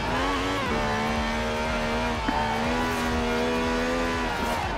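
A car engine in the racing game Forza Horizon 4 drones and climbs in pitch as it accelerates, a steady, loud rising whine with a brief gear change partway through.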